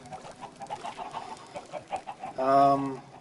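Chickens in a video game farm cluck in a steady run of short, evenly spaced calls, ending in a louder, drawn-out squawk near the end, with no talking.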